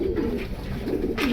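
Many pigeons coo together inside a loft, a dense, continuous layer of low warbling calls close at hand with no voices.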